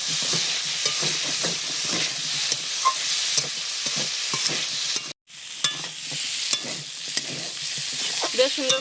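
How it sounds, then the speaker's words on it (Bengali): Winter vegetables are stirred and fried down in a pan, a loud close sizzle with repeated scraping strokes, cut by a short silent gap before the hissing and stirring resume, no speech. "নেড়ে চেড়ে সবজিটা একটু কষিয়ে নেবো"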